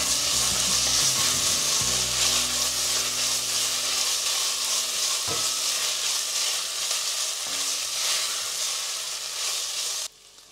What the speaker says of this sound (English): So I'm going to add 1 tablespoon ginger garlic paste and let this cook for some time.